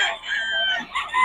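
Young gamecock stags give short, close crowing calls and clucks in quick succession, with a bit of background voice.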